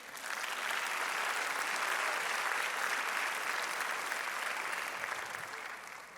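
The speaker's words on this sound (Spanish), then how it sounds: "Dale un aplauso a Cristo" Church congregation applauding in a sustained, steady wash of clapping that swells in and holds loud for several seconds before easing slightly at the end, with no voices over it.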